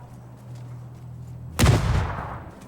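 A single heavy gunshot blast in the PUBG battle royale game, sudden and loud with a long rumbling tail after a stretch of low ambient hum.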